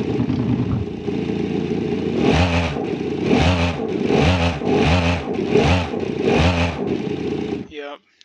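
A sports car engine in the game BeamNG revs repeatedly in steady bursts, about six rising surges, loud and close, then cuts off abruptly at the end.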